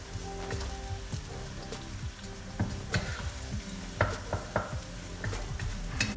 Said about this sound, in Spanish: Con cuidado que no se nos queme la cebolla ni el ajo.